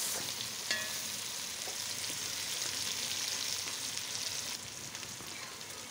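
Steady, close sizzling of vegetables frying in a hot pan for lagman, with occasional scraping and clinks of a utensil stirring, no voices.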